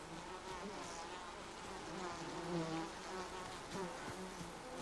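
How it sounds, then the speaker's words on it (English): Steady, close swarm of bees humming in Ghost of Tsushima, a dense continuous buzz with no talk over it. "Oh, the bees."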